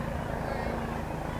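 A helicopter lands near an outdoor girls' softball field, giving a steady broadband rotor rumble at moderate distance with a faint voice underneath.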